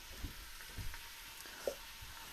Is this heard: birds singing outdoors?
no